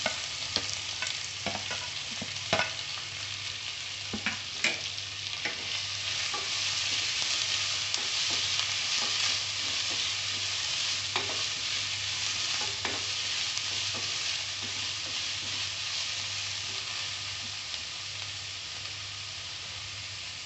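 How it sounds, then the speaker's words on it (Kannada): Onions frying in a pan with ginger for dal fry, a steady close hiss of sizzling oil with frequent light scraping and tapping of a spatula, no talking. "ಸ್ವಲ್ಪ ಕೆಂಪಗಾಗೋ ತನಕ ಹುರ್ಕೋಬೇಕು. ನಂತರ ಈರುಳ್ಳಿಯನ್ನು ಹಾಕಿ"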